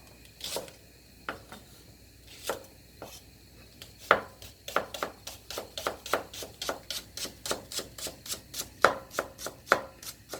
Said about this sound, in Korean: 여기다가 이제 파를 조금 썰어서 넣고요